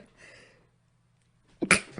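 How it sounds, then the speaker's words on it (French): A single sharp sneeze bursts out loudly after a stretch of near silence and faint background hum, brief and close to the microphone. "J'en éternue, excusez-moi."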